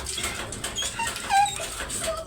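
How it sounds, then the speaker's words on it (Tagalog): A big dog whimpers softly in a few thin, brief whines while being bathed, fearful of the water, over a steady background hiss with no talking. "Kalaki-laki mong aso eh."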